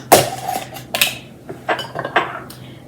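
A spoon knocks and scrapes against a bowl as sour cream and Greek yogurt are mixed, giving several sharp, close clinks at irregular intervals with quieter scraping between them.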